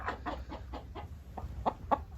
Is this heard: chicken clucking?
yes